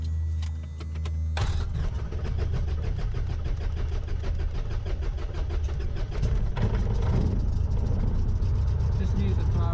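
A light aircraft engine, propeller cleared, starts after a quiet cranking moment and settles into a loud, steady running drone up close, with a voice talking over it.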